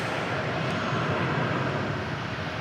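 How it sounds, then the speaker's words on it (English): An American Airlines airliner taxis at Dallas/Fort Worth airport, its engines giving a steady, broad roar that holds level throughout, fairly close and continuous with no talk over it. "that tail there moving on to the right of your screen, that's American Flight 1005 off to Bakersfield, California"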